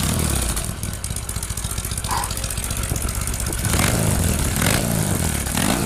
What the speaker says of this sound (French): C'est une Harley